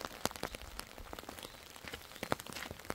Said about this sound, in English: but apparently I got rain building up